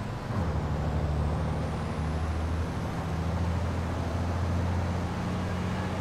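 A Freightliner Cascadia race truck in the FIA European Truck Racing Championship, its heavy engine droning loud and continuous while air brakes hiss and the engine note drops and shifts under braking.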